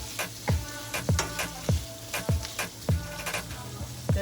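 Garlic sizzles in olive oil in a pan, a steady frying hiss broken by about eight sharp, evenly spaced stirring scrapes, loud and close with no talking.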